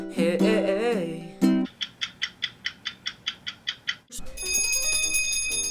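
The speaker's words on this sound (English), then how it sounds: "Well, that's the bell." A bright bell rings in a rapid, evenly spaced series of about a dozen metallic strikes, loud and close, after a brief musical passage and before a sustained tonal chord.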